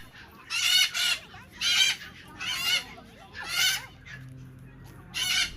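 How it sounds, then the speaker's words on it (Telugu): Loud, harsh bird screeches come in five bursts, spaced about a second apart, each shrill and raspy, with a faint low hum between them. "ఈ బర్డ్స్ చూడడానికి ఎంత క్యూట్గా ఉన్నాయో చూడండి కానీ నోరు తెరిస్తే ఎంత అరుస్తున్నాయో అసలు"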